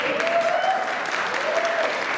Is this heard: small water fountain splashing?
no